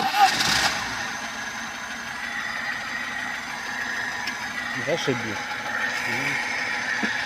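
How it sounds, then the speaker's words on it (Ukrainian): Car engine idling right after a carburetor replacement, a steady low rumble at moderate distance with someone briefly talking over it. "Так ми запускаємося."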